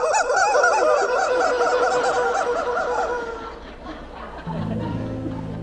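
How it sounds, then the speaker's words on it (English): A squeezed rubber chicken toy lets out a long, loud warbling squawk lasting about three seconds, played at a healthcare symposium, followed by a lower honking tone and room noise. "I'll nod when I want you to squeeze the chicken."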